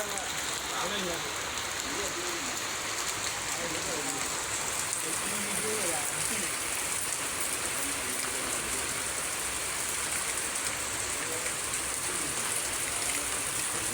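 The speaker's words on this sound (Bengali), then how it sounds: "গাছ বৃষ্টি পড়তেছে বৃষ্টি" Steady rain pours outdoors in July monsoon weather, a dense even hiss that fills the whole stretch, with faint voices murmuring underneath near the start.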